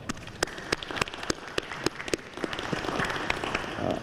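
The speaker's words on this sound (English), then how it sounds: "Let's give them a round of applause." Scattered applause from people at a mayoral press announcement in Little Rock, individual sharp claps standing out against a thin wash of clapping, moderately distant.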